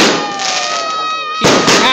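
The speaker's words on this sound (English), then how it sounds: "There's still fireworks going on." New Year's Eve fireworks go off in Naguabo, Puerto Rico, in 2011: loud whistling rockets glide downward in pitch, then a sharp crackling burst erupts nearby and keeps sizzling.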